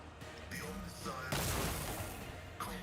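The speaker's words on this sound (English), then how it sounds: "I'm gonna shoot the freaking rifle at him." A rifle firing in the Warhammer 40K role-playing game Rogue Trader, a single loud booming shot followed by a rumbling tail, set amid quieter battle effects and some background voice.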